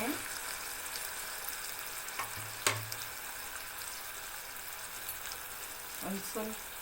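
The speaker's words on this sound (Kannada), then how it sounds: "ಈಗ ಇದು ಸ್ವಲ್ಪ ಎಣ್ಣೆಲೆ ಫ್ರೈ ಆಗಿದೆ" Ivy gourd fries in oil, giving a soft, continuous sizzle that stays quiet throughout, broken by a few faint clinks and stirring scrapes.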